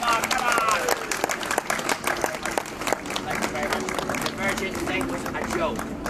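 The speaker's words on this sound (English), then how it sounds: "give this gentleman a big round of applause" An audience claps for a gentleman called up from the crowd, with a loose, moderately loud patter of applause running under a voice as he keeps talking over it.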